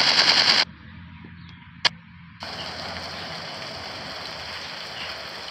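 Rapid gunfire in a dinosaur sniper shooting game: a loud rattling burst opens, cuts to a low hum with one sharp crack, then a steady hissing wash of sound follows.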